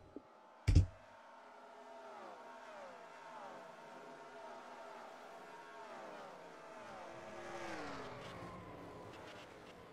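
In a NASCAR racing video game, a crash replay opens with a sharp impact thump and then settles into steady engine drone and whine from several cars, which swells near the end, with no talking.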